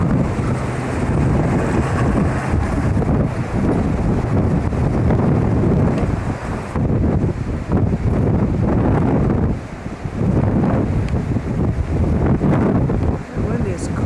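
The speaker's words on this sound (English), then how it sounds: "The wind is cold." A cold wind blows outdoors, rushing and buffeting the microphone in sustained gusts that briefly dip, with faint voices underneath.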